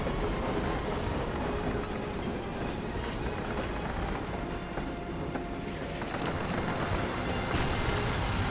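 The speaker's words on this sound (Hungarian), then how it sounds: "Jön a vonat." Train rumbling past in the Call of Duty: United Offensive video game, a loud, continuous heavy rolling roar with metallic wheel squeal and faint high whines, close and sustained.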